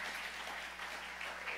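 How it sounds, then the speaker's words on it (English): Continuous applause from a church congregation, a dense, even wash of many hands clapping at once, heard from a distance. "Give her a round of applause, guys."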